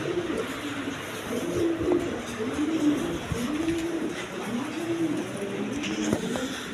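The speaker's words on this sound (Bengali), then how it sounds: "এ দেখেন আরও অনেক ধরনের কবুতর আছে।" Several pigeons coo in a loft, low rounded calls rising and falling in repeated phrases over a steady background hiss, with occasional soft rustles and a faint chirp.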